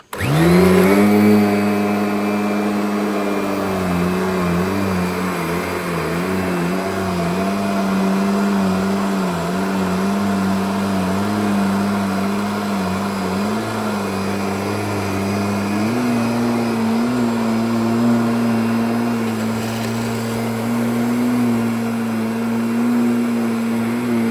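A Kirby Avalir 1 vacuum cleaner starts abruptly and runs on a mattress with a loud, steady motor whine and airflow roar, its pitch shifting slightly partway through, with no voices.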